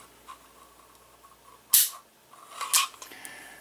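The hammer of an M1895 Nagant revolver falls after a trigger job: two sharp, dry metallic clicks about a second apart, close and crisp against a quiet room.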